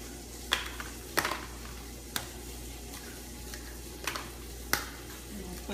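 Eggs cracked into a hot pan with oil, with several short sharp cracks and taps spaced about a second apart over a soft steady sizzle, near and fairly quiet.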